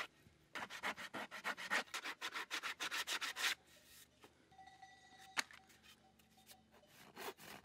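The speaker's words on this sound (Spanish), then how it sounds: "procede al repaso final de la superficie con la lija" Rapid back-and-forth rasping strokes of sandpaper on a wooden axe handle, about a dozen rhythmic passes, then scattered quieter rubbing and knocks.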